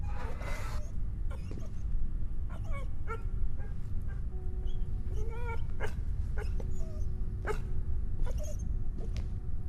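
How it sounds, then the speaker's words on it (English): Dogs bark and whimper in the video game Foghorns Drown, with short yips and whines scattered across a steady low rumble of ambient background. "Listen to the dogs. There's something going on."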